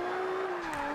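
A front-wheel-drive Toyota Celica drift build holds high revs in Forza 5, a steady sustained engine whine with a slight pitch drop, alone and fairly faint.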